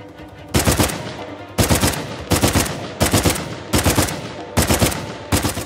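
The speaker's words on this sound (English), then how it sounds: "I'll just keep on shooting you in the leg." Gunfire in Uncharted 4, loud close bursts of automatic fire repeating about every second, six or seven sharp volleys with brief gaps between them over low background game noise.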